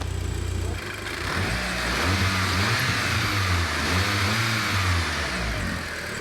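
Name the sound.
VW Golf R engine running after rebuild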